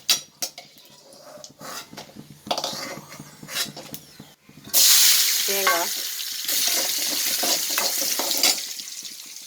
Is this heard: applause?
no